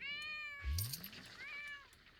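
Cat meowing in a cozy life-sim video game: two clear, close meows with a soft thump between them, over quiet game background sound.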